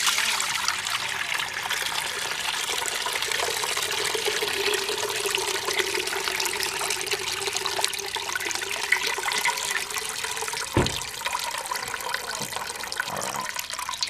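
Excess water from a soaked sand-free beach towel being dumped out of a container outdoors, a steady splashing, trickling pour that runs on continuously, fairly close.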